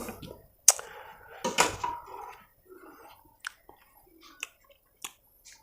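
Someone eats Isan egg curry with water-meal (khai phum), with close, wet chewing and a few crisp bites and slurps spaced irregularly, faint and without talking.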